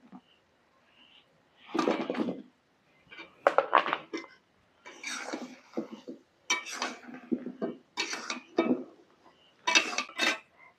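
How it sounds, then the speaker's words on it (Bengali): Sweets made from flour dough being dropped into thick sugar syrup in a pan off the heat, a series of separate clinks and soft wet plops spaced a second or so apart, moderately quiet. "এবার আমি মিষ্টিগুলো দিয়ে দিচ্ছি।"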